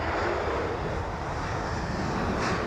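A jet airliner engine roars steadily at London Heathrow Airport, a loud broadband rumble with no talk.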